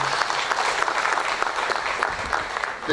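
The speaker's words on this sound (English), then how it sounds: "Another round of applause for the Commissioner General." A seminar audience at a Zimra tax education event applauds the Commissioner General with steady, dense clapping that holds at an even level for the full stretch, with no voice standing out.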